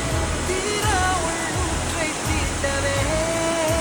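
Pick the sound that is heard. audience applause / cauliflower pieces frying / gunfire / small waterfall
small waterfall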